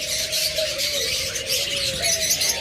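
A caged pair of American Yellow pet birds in a bird shop, squawking and chirping steadily and fairly loud over a constant noisy background, with a thin tonal call running underneath.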